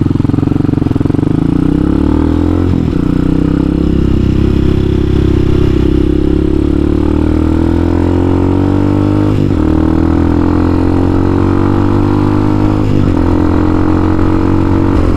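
A Hawk 250 dual sport motorcycle with a rejetted Mikuni carburetor runs close by. Its engine hums loudly and steadily at idle, with a few brief blips or shifts in pitch and no talking.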